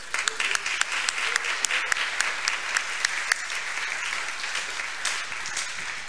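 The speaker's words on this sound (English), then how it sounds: "Let's give her a big round of applause." A church congregation at a Sunday service applauds, a steady wash of many hands clapping together for several seconds, moderately loud and even throughout.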